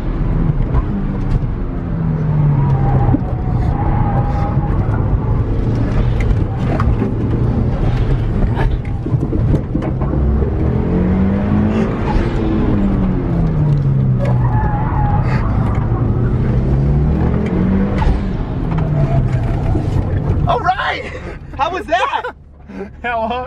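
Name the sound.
car drifting on new wheels, Evo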